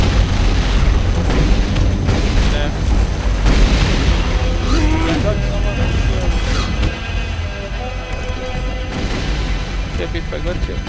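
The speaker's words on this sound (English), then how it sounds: "Plasma rifle." Plasma rifle shots and heavy booming explosions in the 1998 video game Turok 2 multiplayer, loud and sustained with repeated blasts and rumbling impacts over a constant background of game noise.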